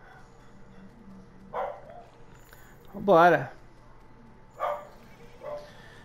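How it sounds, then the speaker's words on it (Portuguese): A neighbour's dog barks several separate times from a moderate distance, each bark short and sharp with gaps between them, while a person talks nearby. "Cachorro que não para de latir"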